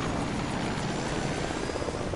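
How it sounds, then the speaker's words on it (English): A helicopter in a Rambo video game drones steadily with a dense rotor and engine rumble, loud and unchanging throughout. "He gets on the helicopter."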